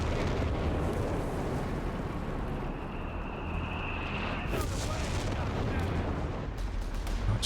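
Artillery counter-barrage in Company of Heroes 3, an Italian Cannone field gun shelling a British Land Mattress rocket launcher: continuous loud rumbling booms and blasts with a rising whine, layered explosions throughout, faint voices underneath.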